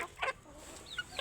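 Native (deshi) chickens give a few short, close clucks and squawks while being given Ranikhet vaccine drops, over a steady low background hum.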